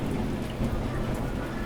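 Steady heavy rain pouring with a low rumbling of thunder beneath, a dense continuous wash of sound at even loudness and no voices.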